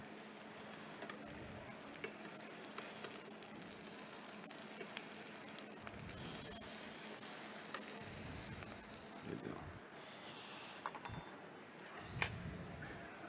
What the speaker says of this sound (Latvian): Gaļas mums arī cepjās ideāli.